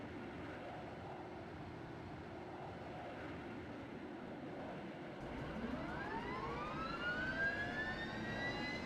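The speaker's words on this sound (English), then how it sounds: "Get the engine started and let's get ready to go." EH101 helicopter engine starting up in Flight Simulator X, a low steady hum joined halfway by a rising turbine whine that climbs in pitch and grows louder as the engine spools up.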